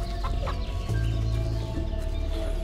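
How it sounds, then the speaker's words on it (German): In the video game Force of Nature, a chicken clucks and squawks close by, with short repeated calls over a steady backdrop of ambient game sound. "Ich schau mal, ob ich einen Huhn einfangen kann."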